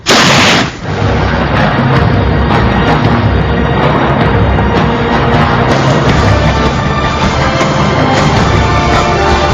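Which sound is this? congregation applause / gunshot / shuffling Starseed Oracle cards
gunshot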